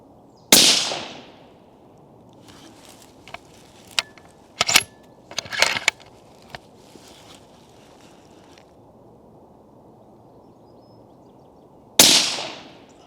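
A suppressed rifle shot from a moderated rifle on a Chinese water deer cull, a sharp muffled crack at the start and another near the end, with scattered small clicks and handling noises between in quiet outdoor air.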